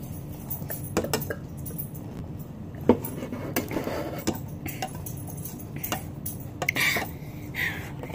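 Metal spoon clinking against a bowl of Cheerios and milk, a scatter of small sharp taps and scrapes at uneven intervals, close and fairly quiet over a low room hum.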